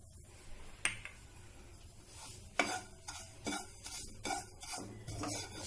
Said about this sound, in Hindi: सूजी को हम थोड़ा कलर चेंज होने तक भूनेंगे।